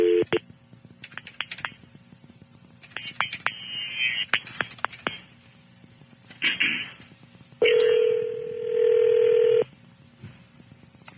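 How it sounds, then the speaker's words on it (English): A telephone call on a radio show: a quick run of dialing tones, then a bright ringback tone in two long bursts, clear and close, alone. "Call Mark"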